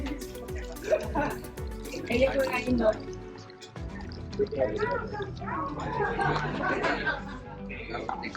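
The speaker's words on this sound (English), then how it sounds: "I'm gonna pour some out for someone else" Clam juice poured from a large drink at a Mexican drive-thru bar, dripping and splashing in short bursts while a person talks over it.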